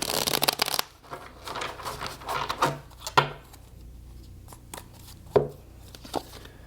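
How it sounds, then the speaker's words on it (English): Tarot cards are shuffled in a burst of dense riffling at the start, followed by a run of lighter card taps, slides and soft knocks on a table, close and fairly quiet with no talking. "See what we get in the cards today."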